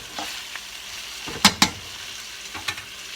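Peppers and onions sizzle steadily in a pan while being stirred, with two sharp scraping clatters in the middle and a few lighter utensil knocks near the end, with no talking.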